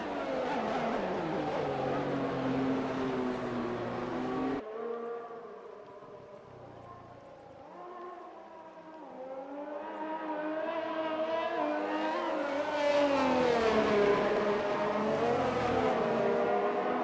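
Race cars on a Shanghai circuit in a realistic racing video game roar past, engines whining and sweeping up and down in pitch, fading briefly before building again into a loud, layered drone.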